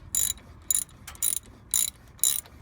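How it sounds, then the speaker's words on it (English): A ratchet with a 17mm socket loosens a brake caliper bolt on a Chevy Trailblazer, giving five short, close, evenly spaced bursts of metallic clicking with quiet gaps between them and no talk. "Using the 17mm socket, we're going to go ahead and remove the calipers."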